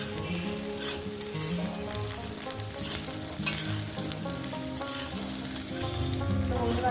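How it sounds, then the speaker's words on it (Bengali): Thick-cut onions and potatoes frying in a pan give a steady, close sizzle that runs the whole time, with music playing underneath. "পেঁয়াজগুলো সুন্দর করে একটু আলু ভাজার ভেজে নেবেন"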